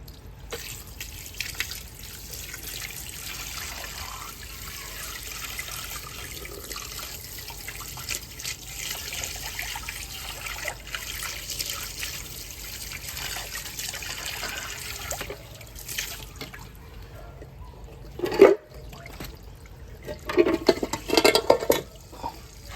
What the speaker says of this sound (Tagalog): Tapos spray na natin siya ng tubig.